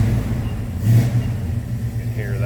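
A 1971 Chevrolet C10 Cheyenne Super pickup idles with a low, steady rumble, rising briefly in a short rev, heard up close with faint background noise.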